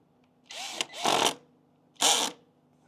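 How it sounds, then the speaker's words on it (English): A cordless drill set at low torque driving screws into accessory mounting hardware on a Rattan Sequoia e-bike, with three short whirring bursts separated by brief pauses, close and clear. "We'll put our screws back in. Again, with our drill set at low torque"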